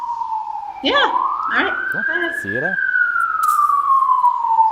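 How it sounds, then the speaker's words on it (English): Police car siren passing outdoors, a loud steady wailing tone rising and falling slowly across the whole stretch, while people talk briefly over it. "Sorry about the police sirens."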